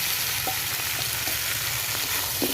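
Fish pieces frying with potatoes in a spice paste in a pan, a dense continuous close sizzle with faint scraping of a spatula stirring, no talking.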